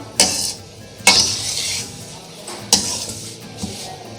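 Semolina roasting in about a quarter kilo of ghee in a pan, stirred with a spoon: three or four sharp scraping clanks against the metal over a low background fry, close and fairly loud, with no one talking.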